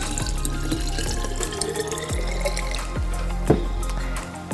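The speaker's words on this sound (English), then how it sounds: "we could fill this up with water, and since it's a net, the water's gonna go through it" Water poured into a bottle through stacked nets, a trickling, splashing flow with a series of close dripping plops at a loose rhythm, steady and moderately loud with no voices.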